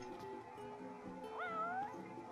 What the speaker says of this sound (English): I can talk to cat.